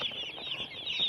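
A chicken clucks in a brief run of close, nasal calls, with no talking over it.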